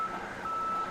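A reversing-truck beep sound effect plays over the stadium public-address system at a high school football game after a penalty. The steady electronic tone pulses evenly through the crowd noise and sounds somewhat distant.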